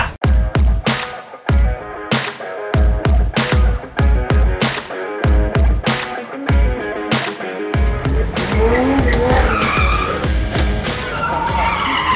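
A car drifting during a blind chess challenge, tires skidding and squealing in repeated loud bursts, then a sustained screech with engine revving over the last few seconds.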